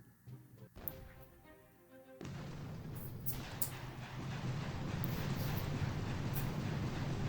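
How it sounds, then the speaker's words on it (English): An artillery barrage in the mobile strategy game Boom Beach: a short musical cue gives way to a sustained rumbling roar of shelling with scattered sharp impacts, building louder toward the end. "That barrage was not terribly good."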